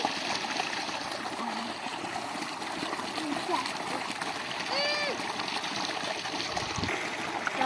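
Irrigation water flows along a channel watering a wheat field, a constant near splashing and trickling with a voice briefly heard over it.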